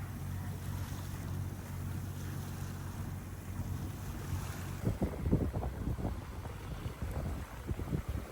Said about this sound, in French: On est au moteur, ça c'est clair.